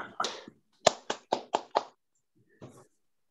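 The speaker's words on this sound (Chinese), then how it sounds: "表演结束，给掌声鼓励。" A few scattered hand claps after a performance at a university alumni association's Spring Festival gala: a brief pair of claps, then five evenly spaced sharp claps and one softer clap, close and sparse, with no talking.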